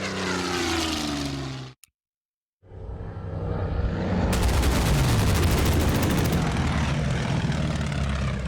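Spitfire fighter plane attacking in the strategy game Order of Battle: a loud, steady propeller-engine drone broken by a brief dropout, then resuming with a rapid rattle of gunfire layered over the engine.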